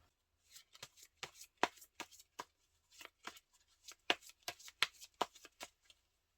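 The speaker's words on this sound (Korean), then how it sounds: "카드를 몇 장 뽑아볼게요." Tarot cards are shuffled and drawn by hand, making a quiet run of crisp, separate snaps and riffles at an uneven rhythm with near silence between them.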